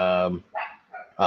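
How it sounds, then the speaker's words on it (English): Household dogs bark in short sharp bursts, a loud bark followed by two quieter yips and another loud bark, close by and in quick succession. "sorry about my dogs barking in the background"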